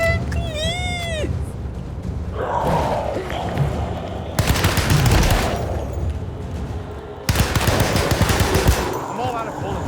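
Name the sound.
gunfire in the video game Alone in the Dark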